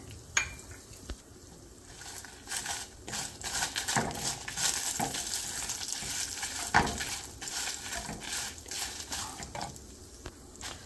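Curry leaves and dry red chillies roasting in oil, crackling and sizzling steadily, with scattered pops and stirring scrapes throughout.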